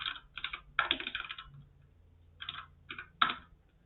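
Close, fairly quiet typing on a computer keyboard, in short bursts of rapid clicks separated by pauses.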